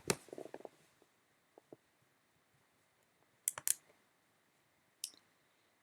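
Sparse plastic button clicks sound as matrix values are keyed into a calculator, quiet and close in a silent room, with a few isolated presses and a short double tap.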